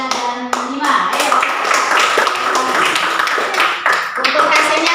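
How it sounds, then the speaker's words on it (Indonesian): Sixth-grade classroom students clapping for groups, a burst of many hands clapping close by with a voice talking over the start. "tepuk tangan untuk kelompok 1"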